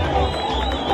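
Audience applause welcoming arrivals, a brief burst of crowd clapping and murmuring, fairly loud and close.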